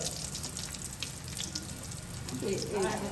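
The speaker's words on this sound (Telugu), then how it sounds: "కొంచెం నూనెలో వేసుకుని ఒక రెండు నిమిషాలు వేయించుకోవడానికి వేసుకొని పెట్టచ్చు" Stuffed bitter gourds fry in a little oil with a steady crackling sizzle that runs unbroken from start to finish, at moderate loudness.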